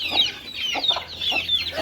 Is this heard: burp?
no